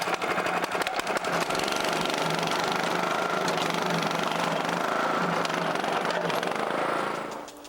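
Lawn seeder running with blades spinning at high speed, cutting shallow grooves in soil and kicking up loose dirt over seed; a steady, loud mechanical engine drone with rattling, continuous for several seconds before easing off at the end.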